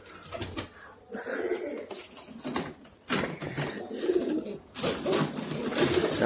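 Pigeons coo repeatedly in low, throaty murmurs, with occasional wing flaps and background chatter nearby.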